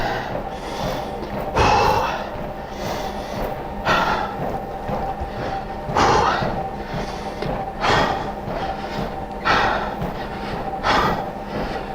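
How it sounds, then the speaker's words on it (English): Heavy, rhythmic breathing of a runner just after finishing a 30-minute, roughly 5-kilometre run: loud, close gasping exhalations recurring every second or two against a steady outdoor background hum. "Just got to get my breath."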